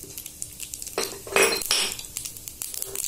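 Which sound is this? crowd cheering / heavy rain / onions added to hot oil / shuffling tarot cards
onions added to hot oil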